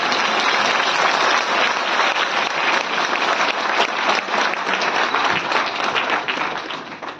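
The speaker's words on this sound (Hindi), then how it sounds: "ये डॉक्टर विश्वरूप के लिए जोरदार तालियां बजाइए" A large audience at a book release event in Delhi applauds Dr. Biswaroop with sustained, dense clapping that holds steady throughout and tapers slightly at the end, with no talk over it.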